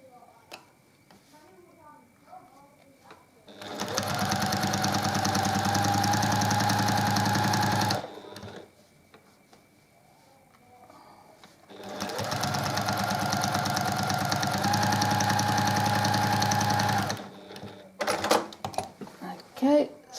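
A sewing machine quilting small diagonal cross-hatch lines through a block runs loud and close in two long steady bursts separated by a pause, with a voice speaking briefly between and after the runs.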